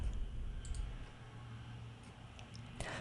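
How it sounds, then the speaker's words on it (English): A computer mouse clicks quietly a few times against faint room noise, with no speech. "Click on that, then click OK."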